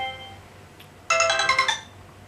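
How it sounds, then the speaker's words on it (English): A phone ringtone suddenly starts playing, a bright, loud, close melodic chime pattern of repeated tones, heard alone over a faint steady hum. "Gonna have to remember to turn the phone off before I make these videos."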